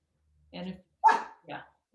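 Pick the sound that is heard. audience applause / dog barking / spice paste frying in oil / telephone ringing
dog barking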